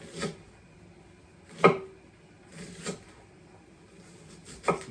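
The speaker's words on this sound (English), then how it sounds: "You're going to slice all these up, and then they're going to go in a pan with the butter." A kitchen knife slices vegetables thinly for palak paneer, giving four or five separate crisp cuts against a board, spaced irregularly, near and moderately loud over a quiet room.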